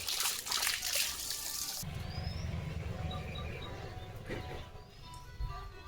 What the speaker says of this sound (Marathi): पाणी वाया चाललंय